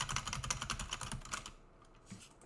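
Rapid clicking keystrokes on a computer keyboard during a game stream, a quick run of taps for about a second and a half, then fading to a few faint clicks.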